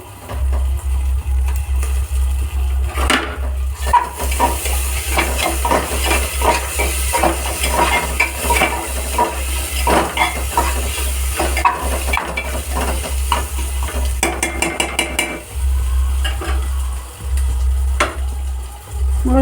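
Spices and ginger paste fry for mutton mince, with a steady hissing sizzle and busy spatula scraping and clinking against the pot close by, plus a low hum underneath that briefly drops out.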